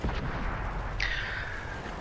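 A tank gun fires in World of Tanks, a loud broadband boom over steady battle ambience, followed by a bright ringing whine that trails off over about a second.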